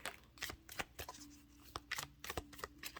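Tarot cards being shuffled in quick riffling bursts, a rapid series of crisp flutters and taps close by, with brief pauses between them.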